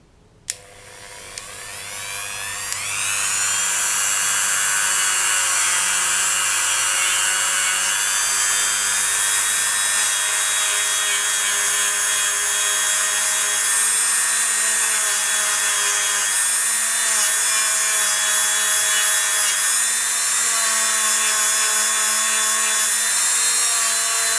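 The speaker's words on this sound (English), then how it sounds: "now we are going to use a buffing wheel just to quickly give it a light buff" A Dremel rotary tool fitted with a buffing wheel lightly buffs a polymer clay faux agate geode piece, a steady, close high-pitched whine that spins up after a few seconds and holds constant throughout.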